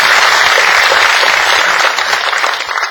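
An audience at a book concert commemorating President Roh Moo-hyun breaks into dense, sustained applause, loud and close, many hands clapping steadily for a few seconds before easing slightly.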